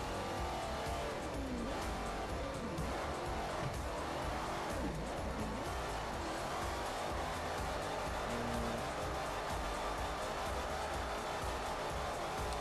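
Plymouth Hemi Cuda drifting in the game Forza 4, its engine revving and tires squealing continuously through a corner, a steady, fairly quiet stretch of rising and falling engine notes with tire screech and no talk.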